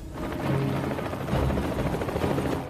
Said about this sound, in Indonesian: Keduanya dievakuasi dengan sebuah helikopter.